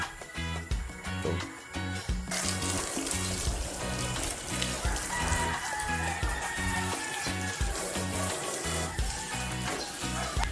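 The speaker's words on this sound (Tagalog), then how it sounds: "Walang humpay yung ulan." Dense, steady rush of heavy mountain rain in Ilocos Sur, Philippines, with water streaming and splashing, loud and continuous throughout, with a low rhythmic rumble underneath.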